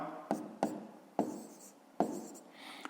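Numbers are handwritten on paper for a fifth-grade math exercise, with a few short close pen strokes and scratchy scribbles separated by brief pauses, quiet and without talk.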